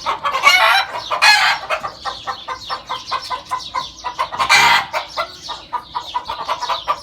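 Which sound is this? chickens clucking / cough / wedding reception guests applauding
chickens clucking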